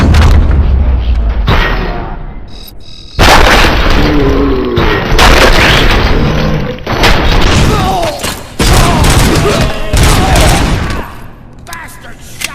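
Dense gunfire from a bank heist shootout in the RoboCop Rogue City video game: loud, overlapping bursts and booming shots over about twelve seconds, with brief pauses and game voices mixed in.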